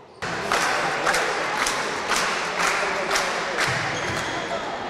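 A crowd applauds a young player, born in 2011, during a youth basketball game. The steady, broadband clapping and crowd noise runs throughout, with a ball bouncing rhythmically on the court underneath.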